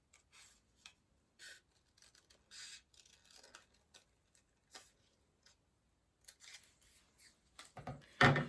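Scissors snip through paper during an at-home art project, cutting out a smile shape; the quiet snips come in short, irregular bursts with pauses between them, and a louder crinkle comes near the end.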